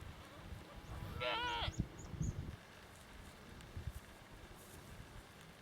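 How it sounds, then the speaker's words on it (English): A mountain goat gives a single faint, quavering bleat on a Welsh mountainside, followed by quieter rustling and outdoor background noise. "the mountain goats"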